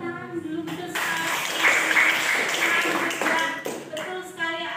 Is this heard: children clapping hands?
yes